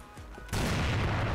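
Gunfire bursts out in the online shooter CrossFire during a sniper match, a sudden loud barrage after a quieter moment.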